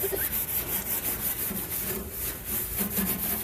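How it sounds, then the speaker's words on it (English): An outdoor grill coated in oven and grill cleaner foam is scrubbed with a stainless steel sponge, giving close, rhythmic back-and-forth rasping strokes that repeat steadily with no talking. "We use a Scott Bright stainless steel sponge."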